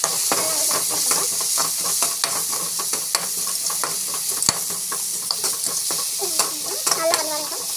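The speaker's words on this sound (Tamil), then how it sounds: "இது பார்த்தீங்கன்னா அந்த எண்ணெயில் நல்லா ஃப்ரை ஆகணும்." Bitter gourd and tomato sauté in oil with chilli powder, giving a loud, close, continuous sizzle broken by frequent spatula scrapes and taps against the pan.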